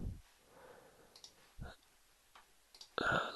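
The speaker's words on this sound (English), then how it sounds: "I'll click, click, click, click around these points that I've created with the guide" Computer mouse clicks made while working with the pen tool in Photoshop: a few sharp, separate clicks spaced irregularly, close and clear over a quiet background, ending in a louder burst.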